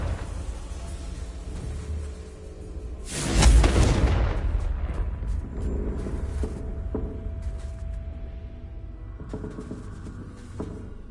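A Confringo blasting spell goes off in a wizarding video game: one loud, low boom with a broad burst at about three seconds, fading into a rumbling tail over steady game ambience.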